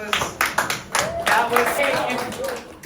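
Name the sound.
students applauding themselves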